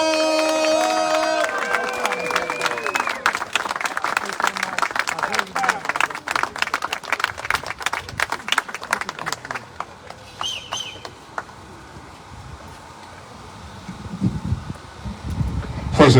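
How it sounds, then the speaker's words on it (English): Outdoor crowd at a house music street dedication in Aurora, Illinois, applauding and cheering to welcome a DJ. Dense clapping and shouts build over a trailing voice and fading tones, then thin out, with wind noise near the end. "please welcome with a big round of applause, the king of house music"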